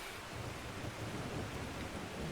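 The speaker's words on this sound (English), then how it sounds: "Oh, that's the rain sound I added in." Steady rain pours with deep rumbling thunder rolling underneath, a continuous dense wash of downpour and low storm growl added as ambience to the 1986 game Uninvited.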